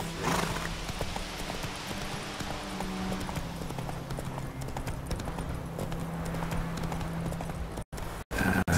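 Roach the horse's hooves clip-clop steadily on the ground in The Witcher 3, a close, even rhythm of hoofbeats continuing for several seconds, briefly cut by short gaps near the end.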